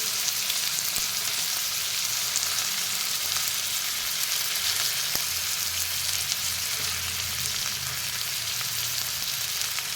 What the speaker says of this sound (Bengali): আমটাকে ভালো করে ভেজে নেব।